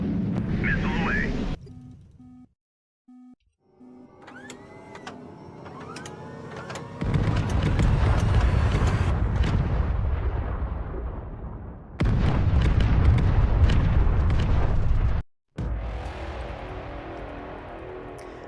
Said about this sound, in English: Let's launch a couple more missiles and see if this thing either dies or survives.